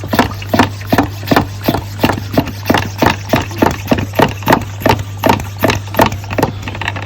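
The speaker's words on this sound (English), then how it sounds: "I'll pump this up." A hand pump on a garden sprayer is worked with steady, rhythmic strokes, each a near, loud whooshing squeak, about three per second, repeating evenly without talk over a constant low hum.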